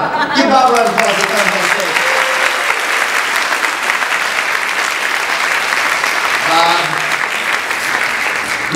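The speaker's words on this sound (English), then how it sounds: "Give Bob a round of applause." Audience applause at a Halloween seance event in San Francisco, steady and full for about nine seconds, with voices talking over the clapping.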